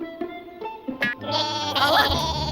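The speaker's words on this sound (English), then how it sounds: "Hey, Dave, one of my sheep fell too." Cartoon sheep bleating amid a busy animated musical scene, with a few short calls followed by sustained, wavering bleats layered over music and other sound effects, fairly loud and close.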